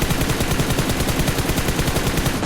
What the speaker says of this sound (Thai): อันนี้คือต้องยิงให้หมดแม็กนะ